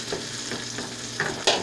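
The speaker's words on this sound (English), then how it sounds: "they're kind of getting caramelized" Onions fry and caramelize in a pan with a steady soft sizzle, punctuated by a few stirring scrapes near the end, close and without talk.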